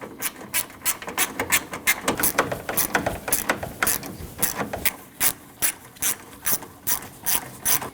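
A ratchet tightens the three 10 mm hood latch bolts on a 2012-2016 Honda CR-V 2.4L during radiator replacement, giving quick rapid clicking bursts in a steady repeating rhythm, close and fairly quiet.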